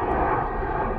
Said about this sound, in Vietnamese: Đây cũng là lần đầu tiên mình quay được chiếc A320 được sơn màu vàng này của hãng Freebird.